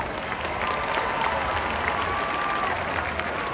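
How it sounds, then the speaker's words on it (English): A stadium crowd at a Marshall University football halftime show applauds continuously, a broad, even wash of clapping heard from a distance with no voices on top. "Let's give all of these amazing candidates a big round of applause for all of the work."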